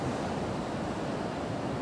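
Ocean surf rolls as a continuous broadband wash, with a little wind noise on the microphone, a steady seaside roar with no voices.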